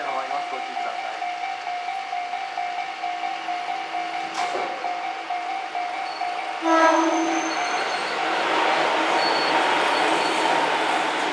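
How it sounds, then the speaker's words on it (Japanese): Tobu Tojo Line train passing through a station platform during weekday morning rush, a rising rush of wheels and air swelling loudly midway, with a horn and platform announcement tones heard beforehand. "1番線を電車が通過いたします。"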